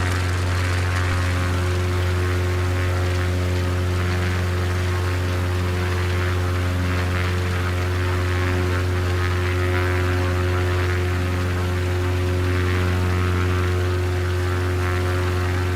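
Aircraft engine drone inside Microsoft Flight Simulator 2024 on a flight around the airport near Catalina Island, a steady loud propeller hum with strong low tones holding unbroken throughout with no talking.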